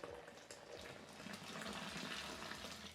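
Boiling water from a kettle pours into liquid malt extract while brewing real ale at home, a soft, steady splashing stream that stays close and quiet for a few seconds.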